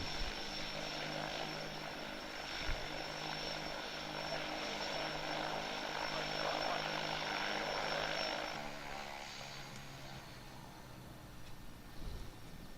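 A Pilatus PC-7 propeller aircraft drones steadily at a distance, a broad engine and propeller roar that holds level and then eases off toward the end.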